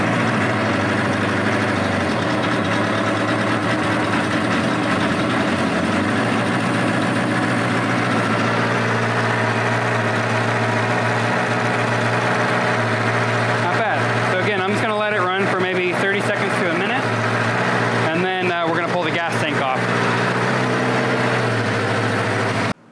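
A carbureted motorcycle engine idling after a full cold start, a loud steady rumble with a wavering rhythm throughout, and a voice speaking over it partway through.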